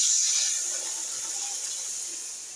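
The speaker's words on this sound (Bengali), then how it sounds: "কষানো হয়ে গেছে, এবার আমি জল দিয়ে দেবো" Water poured into a pan of fried spices while cooking a fish curry, a steady hissing splash that stays loud and even throughout, close by.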